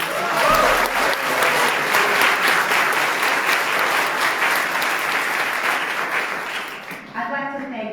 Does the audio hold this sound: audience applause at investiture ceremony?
yes